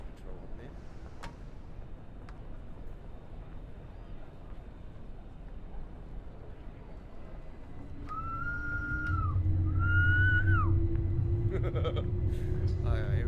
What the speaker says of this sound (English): Anybody can do this whistle.